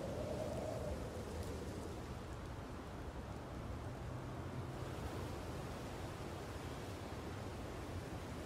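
Ocean waves in a Garry's Mod VR map make a steady, faint wash of surf noise, continuous and even throughout without distinct crashes.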